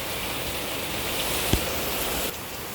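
Steady rain falls outdoors, a dense, even hiss that stays loud and unbroken throughout, with one faint knock partway through.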